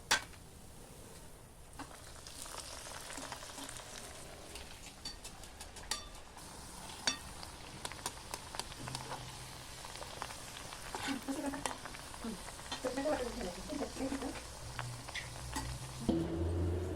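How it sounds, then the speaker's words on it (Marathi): Colocasia leaf vadi deep-fry in oil with a soft, steady bubbling sizzle and scattered crackles. Occasional light clinks and faint background sounds break in. "तेव्हा अशा खरपूस तळून घ्यायच्या."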